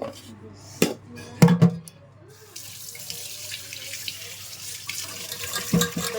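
Tap water runs into a kitchen sink while ridge gourds are washed, with clattering handling knocks early on, then a steady gushing stream that continues to the end.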